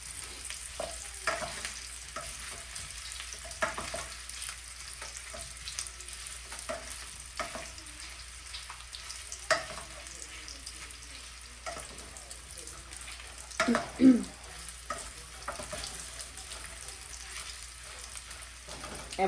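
Meatballs cook uncovered in a pan, a quiet steady sizzle with scattered clinks and scrapes and a louder clatter partway through, no speech.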